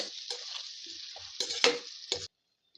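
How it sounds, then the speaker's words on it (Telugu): Red chili pickle stir-fried in a pan, made in the Guntur style: a steady, close sizzle for about two seconds, broken by louder scraping and stirring strokes, then a sudden stop into silence. "ఒక మూడు నాలుగు నిమిషాల పాటు తిప్పుకుంటూ ఇలా ఫ్రై చేసుకోండి"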